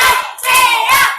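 A classroom of students claps in unison during a clapping game, two short bursts of hand claps from many pairs of hands within about a second.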